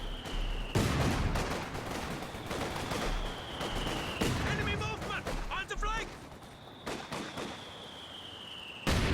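Regular US mortar shells land in the WWII strategy game Company of Heroes 2, as a dense, continuous barrage of explosions and gunfire. Game commentary runs over it, and whistling shell sounds briefly cut through the mid-section.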